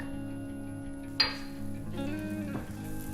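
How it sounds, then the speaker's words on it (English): Minced garlic sizzling in a hot pan for a vegetable stir-fry, a steady soft hiss with a sharp clatter of a utensil and some stirring noise partway through. "You have to let the garlic sizzle for a minute or two"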